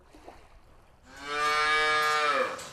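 On a dairy farm at the edge of Arkhangelsk, Russia, a cow lets out one long, loud, nearby moo after a quiet start.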